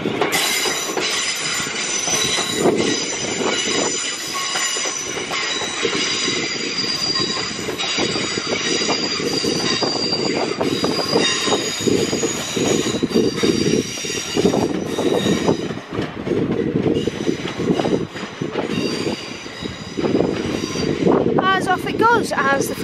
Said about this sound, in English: 350-116 departs for Liverpool from Birmingham New Street